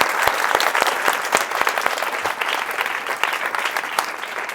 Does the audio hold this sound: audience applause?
yes